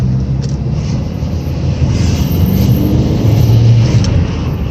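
A car with an injector fault that lights the engine warning lamp above 3000 rpm drones loudly from inside on a test drive, engine and road rumble steady with slight swells as it accelerates.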